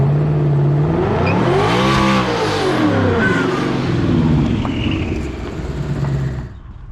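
A twin-turbo 2020 Mustang revs hard and accelerates, its engine note rising and falling in a loud, close sweep as the tires break loose, then easing off toward the end.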